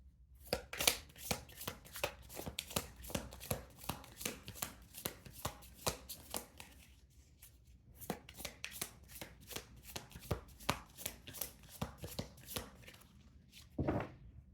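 A new deck of crystal cards is shuffled in a steady run of crisp riffling and slapping strokes, close and fairly soft, with a short pause midway and no talk.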